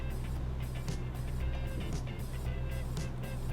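A FedEx truck rolls by in American Truck Simulator, a steady low engine and road rumble with a brief passing swell, heard over the player's own truck drone.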